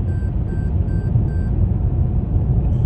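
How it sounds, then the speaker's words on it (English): A car's warning chime beeps four times in quick, evenly spaced pairs while driving through the streets of Anderson, Indiana, over a steady low road rumble that continues after the beeping stops. "Car keeps beeping at me, but I keep trying to stay off the edge of the road."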